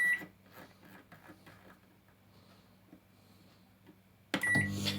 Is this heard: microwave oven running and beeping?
yes